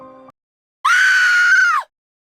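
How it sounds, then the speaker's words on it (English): A strange, unnatural cry like a cross between a bird's screech and a monkey's howl, heard in mountains: one loud, sustained wailing call of about a second, tonal and slightly falling at the end, preceded by a brief fainter tone. "a strange cry split the air"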